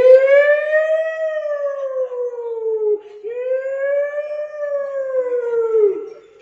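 An ambulance siren gives two long, loud wailing sweeps that rise and fall in pitch, each lasting about three seconds and heard alone with no talk.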